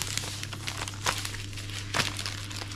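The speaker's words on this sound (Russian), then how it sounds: "матовую такую, дымка называется упаковка. Так, и просто так же вокруг упаковываю." Matte misty wrapping paper crinkling around a heavy New Year bouquet with lots of pine, close rustles and crackles with two louder crunches, over a low steady electrical hum.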